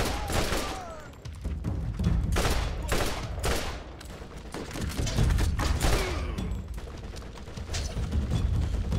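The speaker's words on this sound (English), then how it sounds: "Wow, you have a nice machine gun." Automatic gunfire from a machine gun in the shooter game Borderlands, rattling in repeated dense bursts with booming impacts, loud and continuous with brief gaps between volleys.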